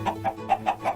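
Five quick, evenly spaced chicken clucks from Minecraft, loud and close, forming a steady rhythmic burst with nothing else heard.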